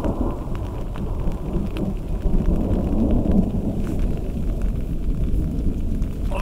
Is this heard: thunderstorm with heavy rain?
yes